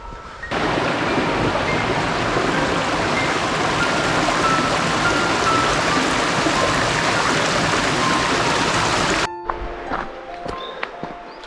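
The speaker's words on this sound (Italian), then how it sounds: "Solo il rumore del fiume" A mountain river in the Pyrenees rushes steadily and loudly up close, a constant full roar of water that cuts off abruptly near the end, leaving faint outdoor sounds.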